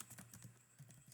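Quiet, rapid tapping of keys on a computer keyboard, several light clicks in quick succession, faint and close, with no voices.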